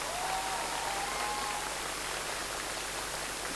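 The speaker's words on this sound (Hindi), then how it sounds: "सपने के बाद जब हम उठते हैं फिर तालियां कैसी होनी चाहिए, ये जरा बजा दीजिए" Audience applause at a theatre festival staging A Midsummer Night's Dream in Chandigarh, a dense, even wash of clapping that holds steady and loud for the whole stretch, with no talking over it.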